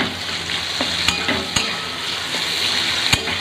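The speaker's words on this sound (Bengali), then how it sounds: "তেলের মধ্যে হলুদটা দেওয়ার পর আমি এই যে পেঁয়াজগুলো আর কি দিয়ে দিচ্ছি" Onions fry in hot oil with turmeric for a fish dish, making a steady close sizzle, with a few sharp clicks of a spatula stirring against the pan and no voices.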